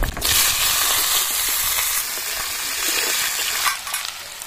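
Potatoes fry in a pan for a spicy bele fish curry, giving a loud, steady crackling sizzle close by that dips briefly near the end before continuing, with no speech.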